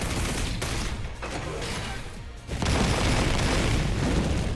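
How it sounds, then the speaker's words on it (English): A dense, booming barrage of anti-phase electron bullets fired in the Digimon Story Time Stranger video game: sustained rapid gunfire-like blasts that swell louder midway, with no talk. "taste my newly developed anti-phase electron bullets"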